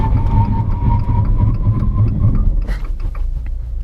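Fiat Toro Freedom 1.8 16V automatic pickup braking hard from 100 km/h to a stop, heard from inside as steady road and engine rumble with a faint tone that fades, then a brief sharper burst near the end.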